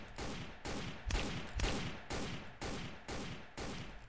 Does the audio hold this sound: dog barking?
no